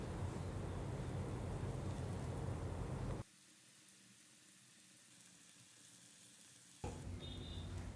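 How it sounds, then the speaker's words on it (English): Mushrooms stir fry on a medium to high flame, giving a dense, loud sizzle that drops away for a few seconds midway, then resumes at full strength. "on medium to high flame we will stir fry the mushrooms until they turn golden brown"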